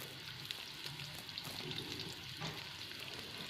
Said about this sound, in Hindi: आधा कप घी का गरम करें, उसमें 2 अदद चॉप्ड की हुई प्याज शामिल कर लें।